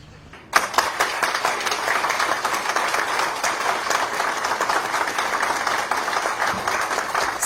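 A crowd bursts into frenzied applause and chorused acclamation for the head of state, Félix-Antoine Tshisekedi: after a brief quiet start, a loud, dense wash of clapping and crowd noise begins and holds steady to the end.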